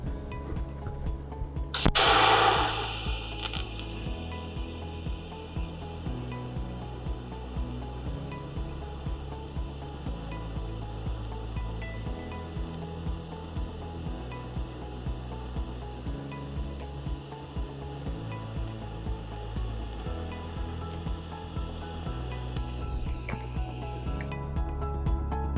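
TIG welding with filler rod added gives a faint, steady electrical hiss and hum after a brief loud crackle at the start, with a low pulsing tone repeating underneath throughout.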